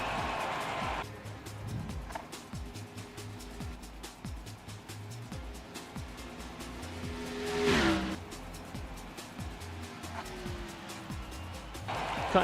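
A race car engine drives a lap in a Second Life racing game, revving up and down steadily through gear changes, with a louder swell midway and continuous engine drone throughout.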